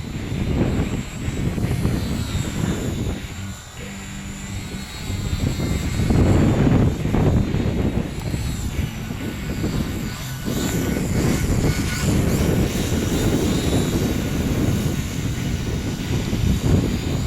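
A ParkZone Ultra Micro Mosquito Mk VI, a small electric RC model airplane, flies at an outdoor flying field, its motor giving a steady, continuous buzzing drone that swells and eases slightly throughout with no talking.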